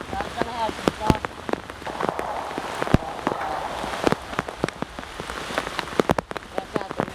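Steady rain patters on a surface in a WWII-style outdoor camp, with dense drops and sharper nearby drips and taps standing out over a constant wash of rainfall.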